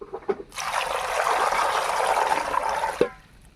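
Water pours steadily into a pot for about two and a half seconds, a close, full splashing stream with a small clink as it ends.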